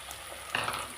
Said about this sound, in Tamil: இப்போ நான் அதில் ஒரு 2 முட்டையை ஊற்றிடுறேன்.